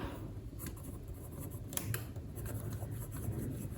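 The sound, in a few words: writing an equation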